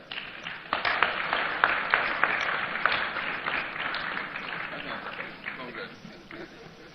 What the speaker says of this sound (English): And now a resounding round of applause for Hajia